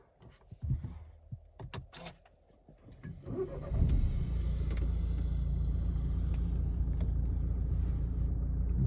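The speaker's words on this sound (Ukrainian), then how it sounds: "Зараз покажу, як заводиться двигун." A Renault Megane 4 is started: a few clicks and cabin noises, then the starter catches and the engine settles into a steady, low, even idle that continues to the end.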